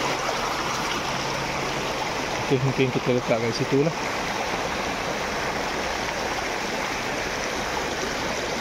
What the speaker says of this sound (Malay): Air agak deras sebab saya rasa dekat atas Gunung Jerai mungkin tengah hujan lebat, so air agak deras lah.